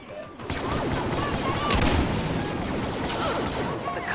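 Rapid turret gunfire rattles through a Star Wars Battlefront battle, a continuous dense stream of shots with whooshing blaster sounds layered over background combat noise and occasional voices.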